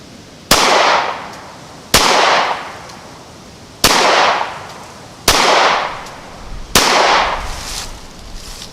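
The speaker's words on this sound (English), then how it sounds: "I know I fired 5 there." Five loud, sharp gunshots from a Ruger Security 9 pistol at a shooting range, fired one at a time at a steady pace, each with a short echoing decay and no talking.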